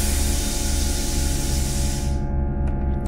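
Air releases from the suspension on a Nissan GT-R fitted with a cup kit, a loud steady rushing hiss with a low mechanical drone beneath it. The hiss cuts off sharply near the end, leaving a few faint clicks.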